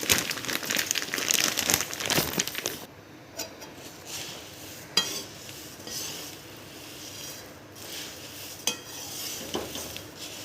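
Puffed rice with turmeric being roasted and stirred in a pan: dry crinkling, rustling and scraping that is busy at first, then thins to sparse light scrapes and taps, close by with no talk.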